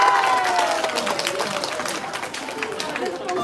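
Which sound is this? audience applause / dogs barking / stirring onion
audience applause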